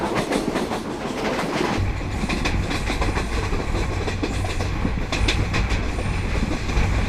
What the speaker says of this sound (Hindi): The train itself is very nice to ride